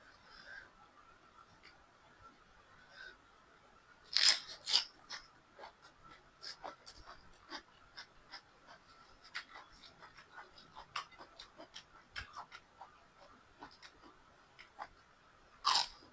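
Crunchy vegetables are bitten and chewed close by, with sharp scattered crunches over a quiet background.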